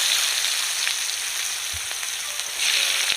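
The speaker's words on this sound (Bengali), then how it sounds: "এবার আমি তেলের মধ্যে দিয়ে দেবো কুচিয়ে রাখা পেঁয়াজ" Chopped onion hits hot oil already seasoned with chili, whole garam masala and a pinch of sugar for chicken kosha, giving a steady loud sizzle throughout with a brief low knock near the middle.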